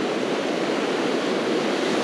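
Surf on an ocean beach washes in a constant, dense rush of breaking waves, steady and fairly loud, with no voices over it.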